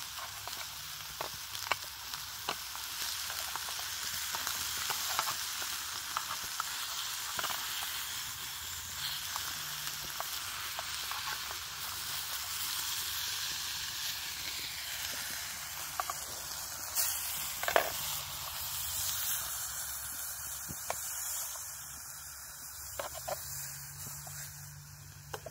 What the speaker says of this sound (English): Try to get those onions sauteed a little bit better.